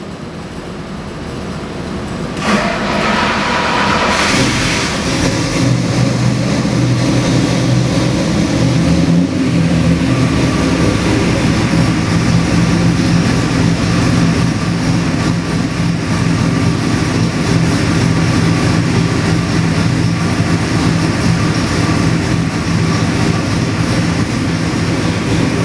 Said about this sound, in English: We got this Chrysler 440 EFI engine here on the dyno. It runs absolutely spectacular. We're going to fire it up and do a dyno run.